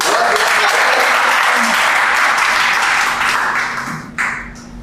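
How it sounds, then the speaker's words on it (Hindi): Audience applause at a Hindi ghazal and doha poetry recital, a dense sustained clapping wash from a crowd that fades out toward the end. "तो एक बार तालियां बजा दीजिए भाई।"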